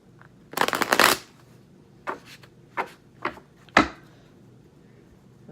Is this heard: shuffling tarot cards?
yes